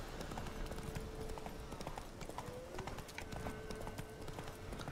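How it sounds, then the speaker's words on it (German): A horse gallops in the video game The Witcher 3, its hooves clip-clopping in a rapid, steady rhythm throughout, moderately loud and up close with a faint background bed. "Wir reiten zu unserem Auftrag."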